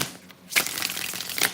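Tarot cards are shuffled by hand, a soft continuous riffling and sliding that swells after a brief quiet start, close and fairly faint.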